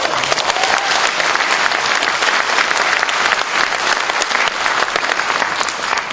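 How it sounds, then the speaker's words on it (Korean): A crowd at a political rally in Gangwon applauds loudly and steadily, a dense close wash of clapping throughout with no talk. "힘찬 박수로 맞아주십시오."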